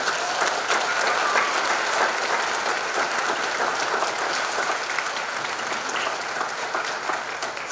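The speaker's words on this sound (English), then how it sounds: "Let's give them one more round of applause." Steady, dense applause from a pageant audience at a county blueberry festival scholarship event, unbroken and even throughout with no gaps, heard from within the crowd.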